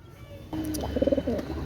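Soft pigeon coos, a few low rounded notes repeating close by against a quiet background.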